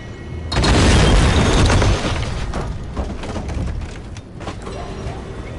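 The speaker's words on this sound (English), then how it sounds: "I especially don't like the explosions here because they equal less fuel and battery power." A heavy boom erupts in the video game Pacific Drive, a loud deep blast lasting over a second, followed by rattling debris and creaking mechanical noise that fades unevenly.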